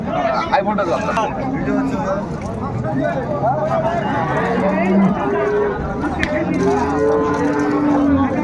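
Cows and calves at a rural cattle market in Dinajpur moo repeatedly, several long lowing calls near and farther off over a murmur of people talking.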